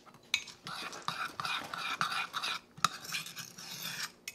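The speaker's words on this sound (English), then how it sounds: "I'm going to stir it around" A spoon stirring chocolate chips into keto cookie batter in a cup, with quick scraping and clinking strokes, close and fairly quiet, repeating in short bursts.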